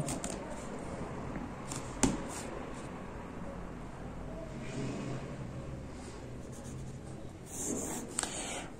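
Marker or chalk drawing lines on a board during a vector geometry lesson, with a steady scratchy rubbing of strokes, a few sharp taps, close and moderately quiet with no talking.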